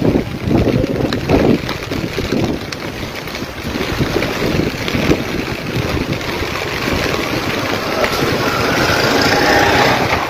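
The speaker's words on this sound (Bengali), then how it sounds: "প্রচুর বাতাস, ছাতা ধরে রাখা যায় না" A strong wind in a rainstorm roars loud and steady against the microphone throughout, gusting with broadband rumble and rustle, with no voices over it.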